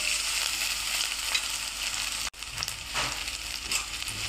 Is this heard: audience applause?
no